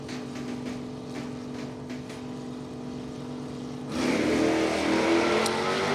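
A 1970 Nova idles at the line in a drag race at Numidia Dragway, then launches with a sudden loud, roaring surge of engine and exhaust that holds to the end.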